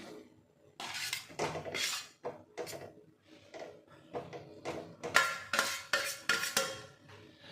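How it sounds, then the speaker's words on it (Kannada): Cooked rice is mixed into raw mango gojju in a metal vessel, giving a series of close scraping and clinking strokes of a spoon against the pot, irregular and fairly quiet, with brief pauses between bursts. "ಈಗ ಅನ್ನ ಹಾಕಿ ಮಿಕ್ಸ್ ಮಾಡ್ಕೊಳ್ಳೋಣ"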